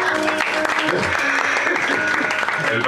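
Dense, steady audience applause fills the space at an evening poetry reading in a bar, a continuous roar of many hands clapping for a performer, loud and close throughout.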